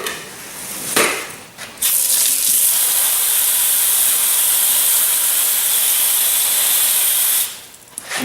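Water spray rinsing a reinforced concrete slab for a coffee table, a loud, steady hiss that starts abruptly after brief bursts and runs for several seconds before cutting off, with no talk.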